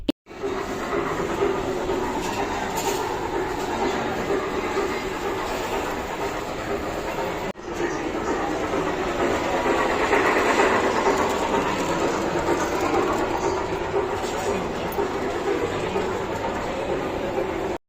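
Steady rumbling rattle of a moving train carriage, continuous and fairly loud throughout, with faint voices in the background.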